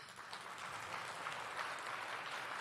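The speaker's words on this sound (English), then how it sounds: "give them a round of applause." Applause for a djembe player at a Rotary meeting, a faint, distant wash of many hands clapping, steady and diffuse for a few seconds.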